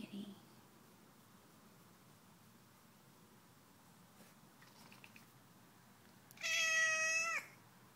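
A single drawn-out cat meow, loud and close, rings out near the end after several seconds of quiet room hiss.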